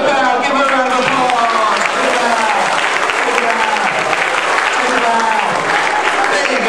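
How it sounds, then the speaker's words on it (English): Loud, sustained audience applause fills a live magic show after a volunteer finishes a trick on stage, a steady dense clatter of many hands with a voice talking over it. "Give her a round of applause."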